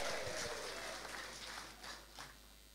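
Church congregation clapping at a revival service at a Toraja church, a broad, steady wash of applause lasting under three seconds, moderately loud and without speech.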